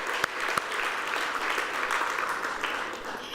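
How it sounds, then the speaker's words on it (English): Convention audience applauding sponsors at an evening event, a dense, even roar of clapping with a couple of sharp nearby claps at the start, sustained throughout. "you may give them a round of applause."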